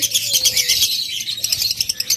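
Caged pet birds for sale, including a yellow pair, chirp close by in quick, repeated bright tweets, with occasional soft fluttering.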